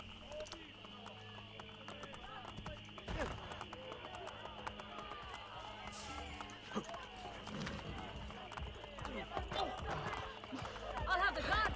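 Horse hooves galloping in the game Assassin's Creed Brotherhood, a continuous rapid clip-clop under steady game ambience and music, with someone talking over it and the level building toward the end.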